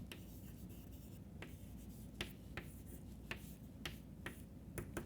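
Chalk or marker tapping and scratching on a board as a lecturer writes out powers of 2, sharp irregular clicks over a steady low room hum with no talking.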